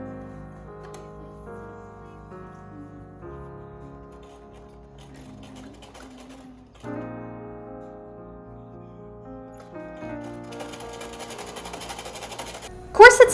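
A sewing machine stitches a seam on an Edwardian corset, its steady mechanical whirring running in bursts with short pauses between runs, while a person talks over it.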